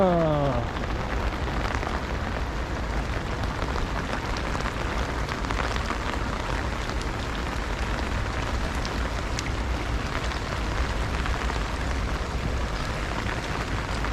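Heavy monsoon rain pours steadily onto water and ground beside a muddy irrigation channel, a dense, continuous hiss lasting throughout without any talking.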